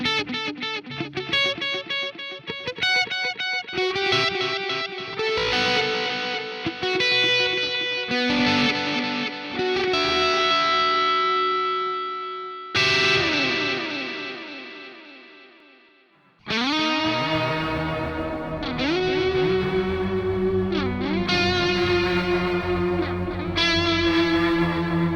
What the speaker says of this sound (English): that's some really cool effects you can do with that delay there